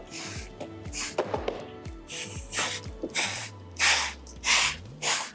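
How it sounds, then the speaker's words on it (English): Bursts of clean water misted from a hand spray bottle onto vinyl paint protection film on a Lucid Air door, several short hissing sprays in a loose rhythm, close and moderately loud, alone without talk. "This is clean water I'm spraying with."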